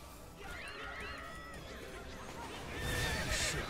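Horses in the fantasy online game Revelation Online whinny and snort in a drawn-out call, growing louder toward the end over a steady bed of game ambience, with no talk over it.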